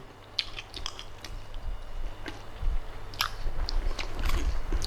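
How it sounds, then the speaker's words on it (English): Someone bites and chews juicy, soft-cooked chicken tikka up close, with wet smacking and crunchy chews in irregular bursts that grow slightly louder, no talking. "In fact, I'm going to give it another taste test."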